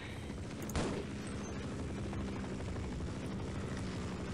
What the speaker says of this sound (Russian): Сейчас надо вертолет будет уничтожить.